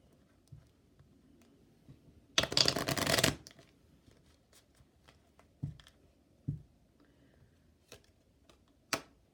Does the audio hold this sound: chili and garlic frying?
no